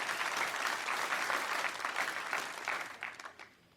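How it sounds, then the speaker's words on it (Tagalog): A church congregation claps together during a sermon, dense sustained applause from a crowd, loud and close, trailing off in the last second. "Pumalakpak sa Diyos ang may gusto ng reward."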